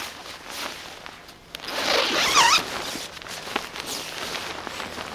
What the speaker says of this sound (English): You can open up the zippers.